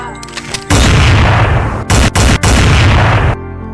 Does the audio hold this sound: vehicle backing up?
no